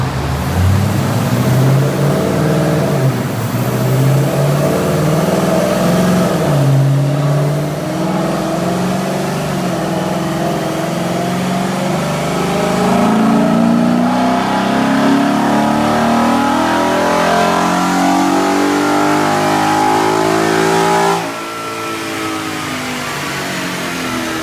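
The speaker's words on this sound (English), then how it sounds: "We're getting ready to strap her down here and do the base pull on the SCT tune." A 2017 Mustang GT with an SCT tune and no other modifications roars loud and close on a chassis dyno, its engine note climbing steadily through a long sustained pull before cutting sharply near the end.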